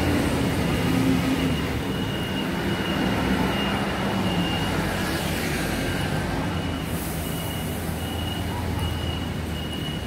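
An MRT train rolls past with a continuous, loud rail rumble and a faint metallic wheel squeal that runs throughout, with no talking.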